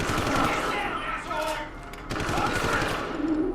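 Gunfire rattles from the video game Deus Ex in rapid bursts, loud and close, with a brief pause mid-way and excited talk over it.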